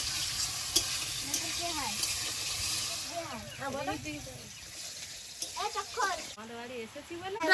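Food sizzles in a pan in a home kitchen, a steady hiss under frequent speech, with louder bursts of sizzling near the end.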